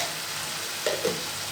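A ladle stirs turmeric water in a pan under a soft, steady sizzle, with two faint scrapes near the end; quiet and brief.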